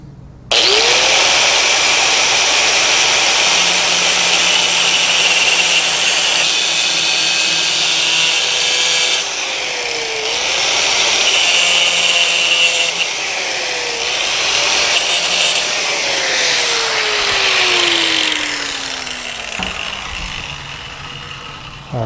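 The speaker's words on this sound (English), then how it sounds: "make a cut right down here to shorten or to get rid of this end of the wrench" Steady, loud abrasive cutting as the end of a metal wrench is cut off, a continuous harsh rasp whose pitch dips and shifts as the cut goes on, with no speech.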